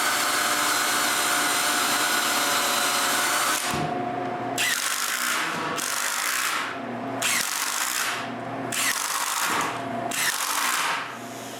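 A power drill whines steadily, then drives screws into a wooden bandsaw in repeated pulses with short pauses between, loud and close, no voices.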